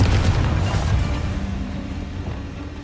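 A deep boom from the Confringo blasting spell in the video game Hogwarts Legacy, heavy at the start and then fading as a low rumble decays over a few seconds.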